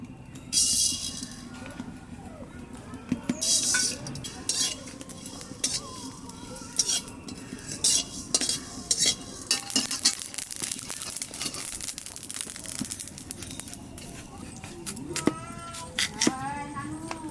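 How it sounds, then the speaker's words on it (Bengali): Spices and potatoes dry roasting in a pan for a fish and ridge gourd curry, with a utensil stirring and scraping in irregular bursts, metallic clinks and a faint sizzle, close by with no talk. "আগে শুকনো খোলায় করে মশলা বেজে নেব আর আলু"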